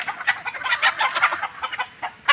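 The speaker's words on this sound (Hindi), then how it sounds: "ये सोनाली मुर्गी है जो देसी की तरह होता है" Sonali chickens on a small farm cluck steadily in a busy, close flock, with many overlapping clucks in an uneven rhythm and one louder call at the end.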